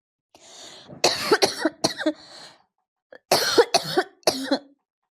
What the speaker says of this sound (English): Sorry, I had a coughing fit